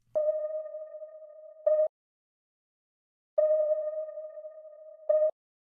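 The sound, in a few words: rhythm of beeps with reverb tail in D sharp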